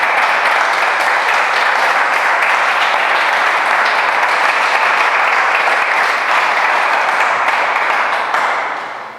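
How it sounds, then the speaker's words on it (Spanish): A church congregation claps for the Lord in a loud, dense, unbroken ovation that holds steady for many seconds. It tapers off only in the final moment. "¿Pero tiene palmas o no para el Señor?"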